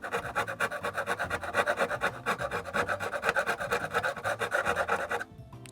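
A grimy typewriter gets a vigorous hand scrubbing, a fast steady rhythm of close, raspy rubbing strokes that continues for several seconds before stopping abruptly.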